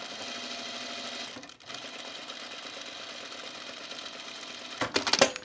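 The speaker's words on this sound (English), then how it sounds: "You can listen to us, the dulcet sounds of my sewing machine." A home sewing machine stitching a top with a steady rapid mechanical whir, close and fairly quiet, pausing briefly near the start and ending with a few louder clatters.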